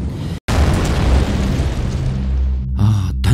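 A spacecraft explosion effect: a loud, sustained broadband roar with a brief cut of silence near the start, then a dense rumbling blast that fades into a softer, pulsing low hum.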